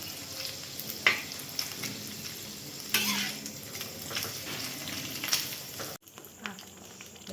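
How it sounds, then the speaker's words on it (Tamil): Paneer cubes fry golden in a pan with a soft continuous sizzle and occasional spatula scrapes and taps, heard close with no speech. "இந்த மாதிரி பொன்னிறமாக வறுத்துக்கணும்."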